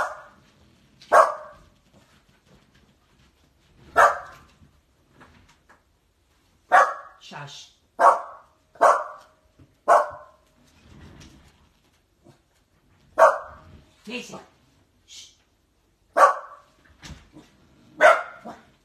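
Two pet dogs indoors bark in repeated short bursts at an unfamiliar car outside, one setting off the other, while a woman quietly shushes them and calls one by name.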